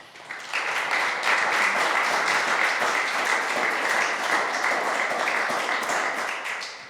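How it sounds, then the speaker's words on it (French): An audience applauds steadily for a guest, Christian Vallée, on a parish radio programme in Charente, the clapping dense and sustained after a quiet start, easing slightly toward the end. "On vous applaudit"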